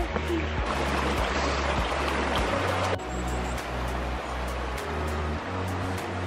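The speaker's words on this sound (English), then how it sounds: "we just found this little walk that's like along this stream with like waterfalls and stuff" A small stream with little waterfalls flowing along a walking path on the North Wales coast, giving a steady, dense rushing of water, close and continuous throughout, with faint low thumps of footsteps or handling beneath it.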